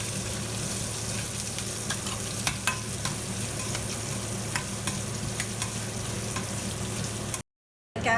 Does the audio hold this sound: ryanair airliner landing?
no